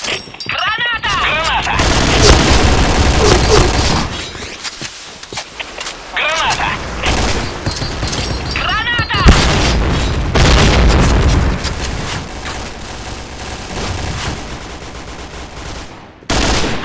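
Loud gunfire in the video game Point Blank, repeated sharp shots and booming bursts through most of the stretch, with voices speaking over the action.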